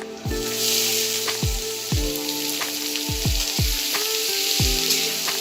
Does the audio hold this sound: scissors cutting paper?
no